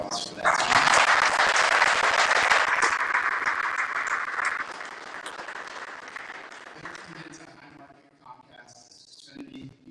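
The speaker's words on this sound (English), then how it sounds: "So let's give a round of applause for that." Applause from an audience at a press conference for Pittsburgh Light-Up Night, loud and dense at first, then gradually thinning and fading out over several seconds.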